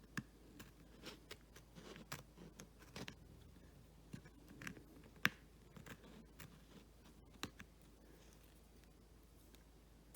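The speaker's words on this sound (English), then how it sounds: "so we are going to just cut those little pieces" Small pieces of paper being snipped with scissors for a triple easel card, quiet irregular cuts and clicks spread through a soft, low background.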